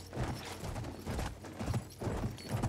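A horse galloping in the video game Battlefield 1, quick rhythmic hoofbeats thudding at close range and carrying on steadily throughout.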